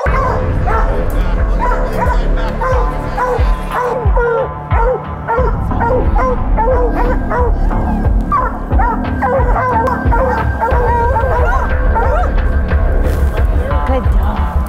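Hounds on a bear hunt bark and yip constantly in a loud, excited chorus, several dogs close by with overlapping high yelps and whimpers throughout.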